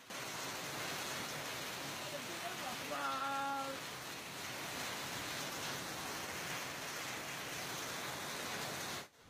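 Hail and rain fall steadily in Lanao del Sur, a constant soft wash of ice and water hitting surfaces at moderate distance, with no talk.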